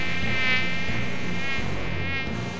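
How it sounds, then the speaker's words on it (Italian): A loud, continuous high-pitched mosquito whine from a ringtone advert's sound effect drones on steadily throughout, alone, with no talk. "La tua città è come una giungla, piena di zanzare."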